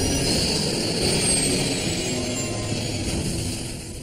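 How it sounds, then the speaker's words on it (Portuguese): A crashing airliner's engines roar in a loud, steady, broadband rush during a dramatized plane crash in the Queens neighborhood of New York, fading slightly toward the end with no voices over it. "Tem uma aeronave caindo."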